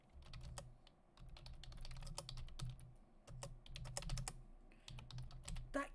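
Rapid computer keyboard typing with irregular clusters of sharp clicks and short pauses, close and fairly quiet, alone with no talk.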